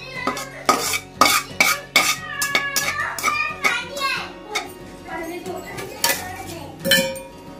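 A spoon stirs ingredients in a hot kadhai with the gas switched off, producing repeated loud metallic scrapes and clinks in an irregular rhythm. A voice and talking are heard between the knocks.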